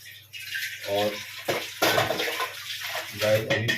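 Tap water runs in intermittent splashing bursts while a flat iron griddle, a wok and a milk pot are washed by hand, close and clear, with brief voice sounds in between.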